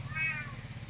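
Domestic cat in a village home gives a single short meow, fairly faint, over low background hum.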